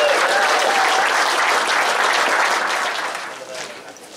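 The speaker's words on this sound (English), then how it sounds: "Round of applause for this guy." A crowd at a 2023 Gulgong gathering celebrating the Model A Ford's 95th birthday gives a round of applause: dense, sustained clapping that stays loud, then thins and tapers off toward the end.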